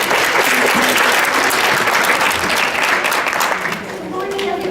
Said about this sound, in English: So can we please give Gabrielle a big round of applause?